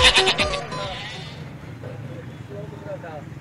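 Goats bleat loudly up close at a busy Lahore livestock market ahead of Qurbani, a few sharp cries at the start, then fainter calls over crowd murmur and someone talking.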